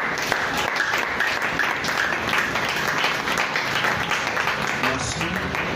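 A church congregation applauds and cheers for Jesus during an evening worship service, a steady, lively wash of clapping with voices mixed in.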